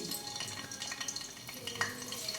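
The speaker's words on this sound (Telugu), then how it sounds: "పచ్చిమిర్చి వేగనిద్దామండి వేగుతున్నాయి కదా" Green chillies frying in hot oil in a pan for mutton curry, a faint steady sizzle with soft crackles and occasional small pops and stirring clinks, close and quiet.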